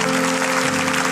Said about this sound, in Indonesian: Kita berikan tepuk tangan untuk Roh Kudus.